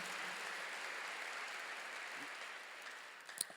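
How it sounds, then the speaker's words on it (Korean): Faint, even applause fills a church service as the congregation claps steadily, then the sound fades slightly near the end. "박수로 영광을 돌리시고"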